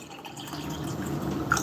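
Water poured into a hydrogen water machine, a soft trickling fill with faint dripping that builds slightly toward the end, quiet and close.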